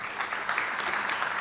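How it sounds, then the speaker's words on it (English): An audience applauds after a startup pitch on an innovation and technology stage, producing a dense, steady patter of clapping across the whole moment. "Round of applause."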